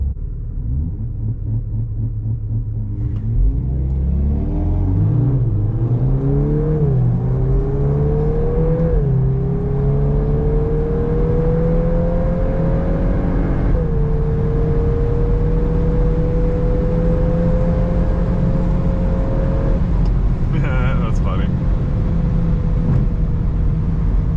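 A Hyundai Elantra N accelerates hard on a highway run, its engine droning loud and close and climbing through rising revs, with a paddle-shifted gear change and a steady roaring pull afterward.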